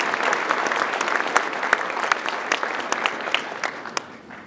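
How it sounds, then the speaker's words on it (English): Applause from an audience at a church gathering announcing bishop nominees, steady dense clapping that fills the room, then thins slightly toward the end. "Yes, you can applaud"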